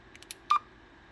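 A Stryker SR-655HPC radio gives a few quick menu button clicks, then one short, clear electronic beep, all faint against a quiet background.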